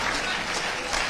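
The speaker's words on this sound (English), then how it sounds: "Sustained applause." Audience at a celebrity lecture event giving sustained applause, dense continuous clapping filling a hall, with some murmur of voices.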